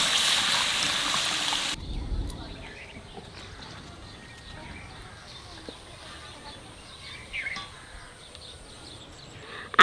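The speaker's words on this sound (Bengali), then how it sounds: "এবার জল দিয়ে দেবো।" Water poured into a pan of yogurt-based potato curry (dum aloo): a loud, hissing pour lasting a couple of seconds, then quiet kitchen background with small faint clinks.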